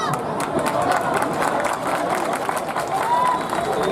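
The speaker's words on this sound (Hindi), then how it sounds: "वाह, इनके लिए ताली बजा दीजिए।" A large outdoor political rally crowd in Jharsuguda claps and cheers steadily for a young girl, a dense continuous wash of applause with crowd voices mixed in throughout.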